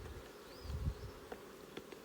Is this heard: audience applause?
no